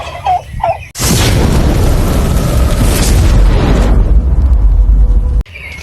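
Hybrid turkeys gobble loudly in a pen, a dense, sustained burst of overlapping calls filling several seconds at close range, with no talking.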